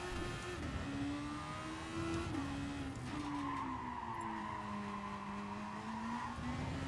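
A Super Formula race car in a racing video game sweeps through a flat-out corner at Barcelona, its engine holding a steady high note that rises and dips with gear changes while tyres squeal continuously throughout.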